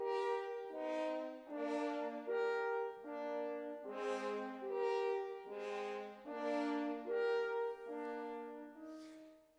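Orchestral horns play the swan theme from a Sibelius symphony, a slow, majestic rising and falling phrase of sustained brassy notes, heard clearly on its own.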